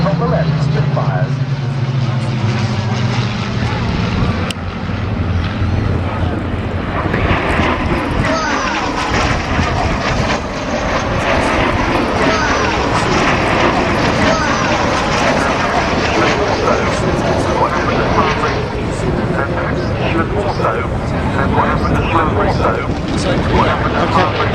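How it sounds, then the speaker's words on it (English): Spitfire fighters passing at the Duxford air show, their engine roar loud and sustained throughout as they fly by, with crowd noise and a commentator's voice mixed underneath. "From the left, Spitfires."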